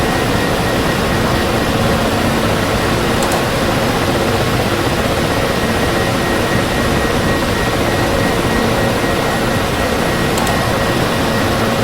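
A Ka-50 Blackshark attack helicopter in the DCS World flight simulator runs its turbine engines and rotor, a loud, steady, dense roar and whine holding constant without pause throughout.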